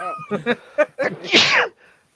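A person sneezes once during a watch party of The Goonies, a sharp breathy burst that follows a few moments of indistinct voices and fades into quiet.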